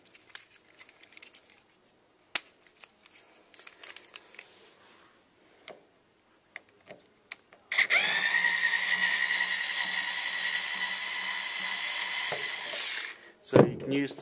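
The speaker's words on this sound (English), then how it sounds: "So you can use the screwdriver attached to unscrew the screws" Screws being removed with a small attached screwdriver from the base of a Thompson OmniGlobe, soft ticking and scraping clicks followed by a sustained whirring hum of about five seconds and a few clunks at the end.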